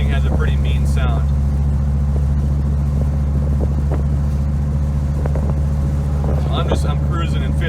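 A Dodge Viper with a factory camshaft cruises in fifth gear at about 60 mph and low revs, its engine giving a steady, deep rumble throughout, with someone talking over it from inside the car.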